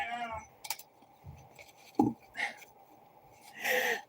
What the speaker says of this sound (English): My cat goes meow.